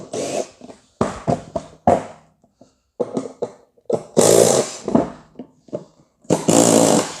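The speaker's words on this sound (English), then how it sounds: "Then it's just a matter of taking the compressor bolts out." A power tool in bursts removes half-inch compressor bolts from a scrapped HVAC unit, short loud whirring runs separated by pauses, with a longer sustained run near the end.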